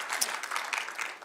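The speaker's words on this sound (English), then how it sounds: "That's worth a clap right there." Brief burst of applause from a conference audience, moderately loud and dense, with no one speaking over it.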